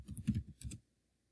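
A short burst of typing on a computer keyboard as a search term goes into a database, several quick soft key clicks over about a second, then silence; fairly quiet and close.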